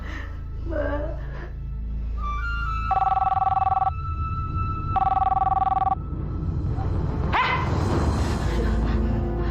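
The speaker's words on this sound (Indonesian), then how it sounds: "Mbak angkat teleponnya, Mbak." A telephone rings in two electronic bursts of about a second each, separated by a short gap, over a steady low room hum, with a dog barking and a voice speaking nearby.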